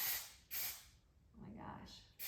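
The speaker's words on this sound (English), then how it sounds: "This is gold glitter shimmer. It's a glistening gold. I'm just gonna spray it on there" Gold glitter shimmer spray is released from a can in short aerosol hisses, two sharp bursts separated by quieter moments with a faint voice in between, then another hiss beginning at the end.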